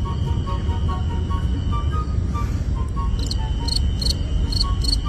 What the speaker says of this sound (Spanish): Sonaba un cri-cri por aquí y me he puesto a investigar de dónde venía el sonido y mirar y encontrar al grillo que hace cri-cri.